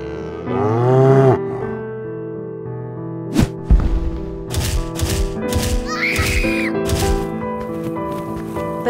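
A deep, drawn-out moo from a cow up close, straining while pulling a heavy load cart uphill, followed by scattered knocks, clunks and rattling.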